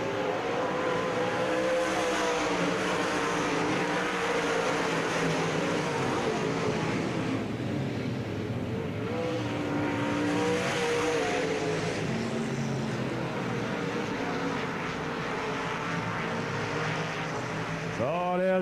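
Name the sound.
dirt track race cars racing, UMP Summer Nationals at Davenport Speedway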